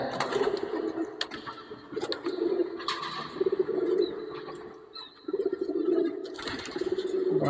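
Marcopolo pigeons coo close by in repeated, rhythmic throaty phrases, with faint chirps and small mechanical clicks between the calls.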